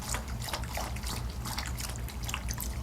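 A dog lapping water from a bowl, with a continuous close wet splashing and trickling and no talk.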